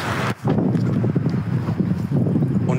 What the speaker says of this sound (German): Und es ist windig da. Also wir sind in der Höhe.